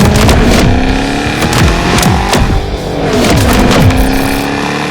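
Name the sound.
2007 Shelby GT500 supercharged 5.4 test drive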